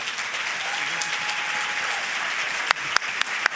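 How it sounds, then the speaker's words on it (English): A large audience at a middle-level education conference general session applauds in a broad, steady roar of clapping, with a few loud, close individual claps popping out near the end. "Please give a round of applause for my colleagues."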